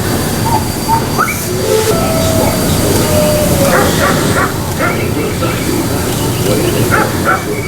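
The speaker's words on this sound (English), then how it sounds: "Who's a good doggy?" Dog barks and yips ring out intermittently over a steady rumbling, rattling background like a moving train, fairly loud throughout.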